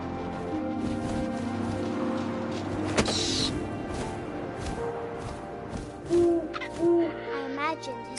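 An owl hoots in the video game What Remains of Edith Finch, a few low, hollow calls standing out late in the clip over soft wind ambience.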